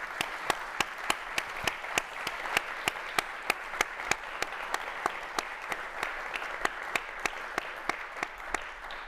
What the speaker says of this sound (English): let's give a round of applause to Neil